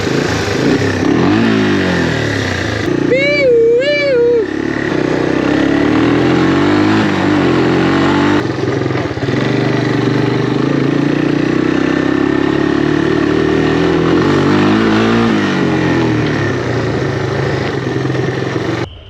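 A right-hand-drive BMW E36 engine runs loud and close, holding a steady throaty idle with a few rising and falling revs, including a quick wavering blip near the start.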